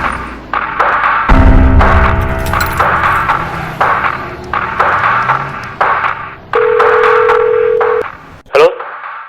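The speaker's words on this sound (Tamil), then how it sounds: "நம்ம நம்பருக்கே கால் பண்ணுவோம்." A phone rings its own number: a sustained electronic ring tone and dial beeps repeat in bursts, with a steady tone near the end, under a close speaking voice.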